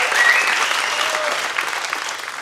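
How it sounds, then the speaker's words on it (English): A crowd applauds steadily for a church family watching from Long Beach, a dense, close wash of clapping that fades slightly toward the end. "Would you guys mind giving a round of applause to my church family that's watching back in Long Beach?"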